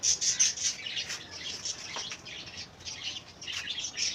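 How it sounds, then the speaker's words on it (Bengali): Soft fluttering of wings from birds flying past, with light chirps scattered throughout, fairly faint and outdoors. "পাখি চলে যাচ্ছে"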